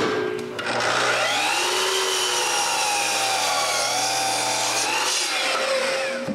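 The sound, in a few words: saw cutting a 2x4 board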